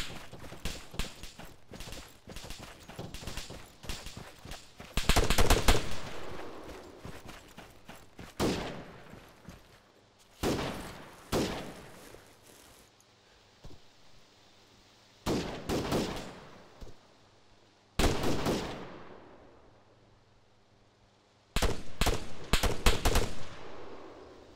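Machine gun fire in a military shooter game, with bursts of varying length, some near and loud, others more distant, separated by short pauses and quieter rattling, with no voices.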